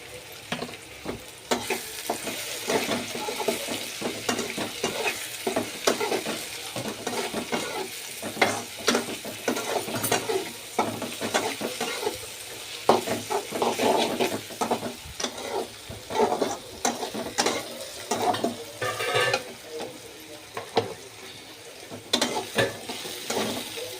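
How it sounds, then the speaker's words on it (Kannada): Chili powder frying in hot oil for a homemade pasta, a continuous close sizzle with frequent scraping strokes of a spoon and occasional clinks against the pan, with no one speaking. "ಖಾರದ ಪುಡಿ ಎಣ್ಣೆಯಲ್ಲಿ ಬೆಂದಿದೆ"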